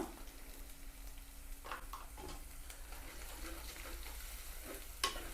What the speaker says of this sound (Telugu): అల్లం పేస్టు పచ్చివాసన మీద కలుపుకుందాం మనమైతే ఒక స్పూన్ పసుపు వేస్తున్నా